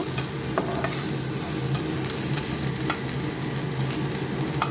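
Onion, garlic and ginger sizzle steadily in hot oil in a pan, a dense close-up hiss with occasional sharp stirring clicks and scrapes, and no voices.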